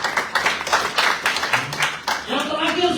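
A church congregation applauding, a dense stretch of many hands clapping close by, with voices mixed in and a brief dip before the clapping carries on.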